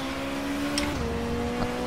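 Race car engine in the Race 07 WTCC racing game at Valencia, a steady tonal drone that drops pitch slightly partway through as if shifting or lifting, with faint clicks over the hum.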